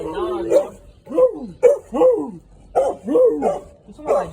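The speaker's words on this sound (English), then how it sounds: "Why are you barking?" A dog barks close by in an outdoor spot near an abandoned train station, giving about eight sharp, yipping barks in uneven bursts with short gaps between them.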